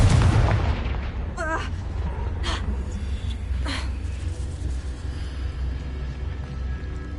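Hogwarts Legacy spell combat with a Confringo blast spell, a deep booming impact up front followed by a rumbling low drone and a few sharp crackling bursts, loud and close with no speech.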